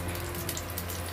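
Warm water pours briefly into a bowl of dry chili, ginger and cumin powder, a short soft steady trickle heard up close.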